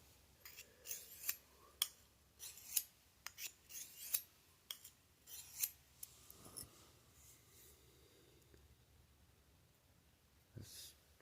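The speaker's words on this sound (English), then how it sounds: "today I thought I'd be trying this little diamond sharpener out on my Budk Mountain Man knife" A Budk Mountain Man knife being drawn across a small diamond sharpener after going dull: a series of gritty scraping strokes at an uneven rhythm, close and fairly quiet, with a few isolated strokes after a pause.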